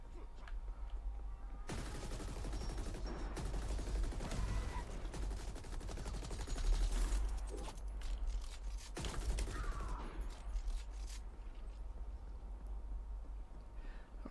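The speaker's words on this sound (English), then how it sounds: "I'm certainly enjoying the explosions" Repeated loud explosions and gunfire-like bursts in the video game The Ascent crash over a continuous low rumble, with several sharp impacts spread across the stretch.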